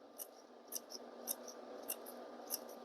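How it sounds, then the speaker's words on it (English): Scissors snip the edges of a printable paper piñata in five quick, crisp cuts spaced about half a second apart, close and faint against a quiet background. "you want to make a whole bunch of little snips on the edge"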